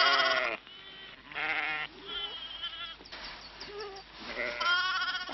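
A young lamb bleats repeatedly on a farm, several short, wavering cries close by with brief pauses between them, fairly clear over a quiet background.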